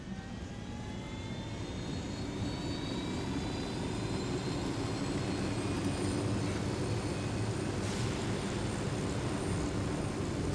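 Loud, steady whirring engine roar of a helicopter in the video game Ghost Recon Wildlands, with a rising whine, continuous and close throughout, no voices.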